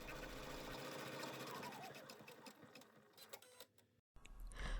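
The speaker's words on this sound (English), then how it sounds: "take your hoop and put it back on your machine. Stitch the next step of the design" An embroidery sewing machine stitches a design in the hoop for a tooth pillow with a quick, even mechanical clatter and whir, which slows and stops, then a short burst of noise follows after a brief gap.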